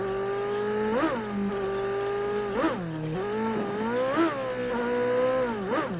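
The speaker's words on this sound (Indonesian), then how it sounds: "Iya, suara mobilnya kayak mobil sport beneran sih." A high-powered McLaren sports car engine in PUBG Mobile revs repeatedly, its pitch swelling and falling in several surges over a steady throaty drone, with no talking.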